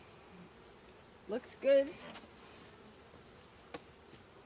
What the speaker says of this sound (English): That's the bees.